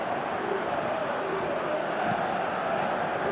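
Stadium crowd in an eFootball match, a dense, steady roar of many voices filling the whole stretch at constant loudness.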